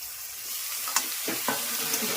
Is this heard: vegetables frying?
yes